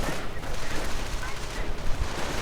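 Dense gunfire and explosions fill a real-time strategy battle in a 1v1 World War II video game match, a continuous loud clatter of rifle and machine-gun fire with booms mixed in.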